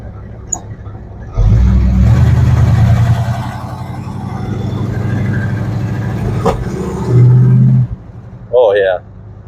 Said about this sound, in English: a little bit of backfire there, but oh man, she gets going real quick there